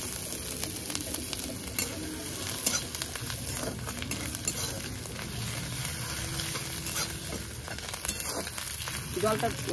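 Food sizzling steadily in a pan while a utensil stirs it, close and continuous frying hiss with scraping movements and faint talk in the background.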